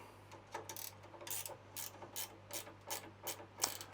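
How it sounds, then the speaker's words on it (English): A ratcheting spanner clicks in short repeated bursts while loosening an 8mm nut on the back of a cylinder lawnmower's drive handle mechanism, close and fairly quiet with a low steady hum underneath. "just loosen off the 8mm nut off of the back"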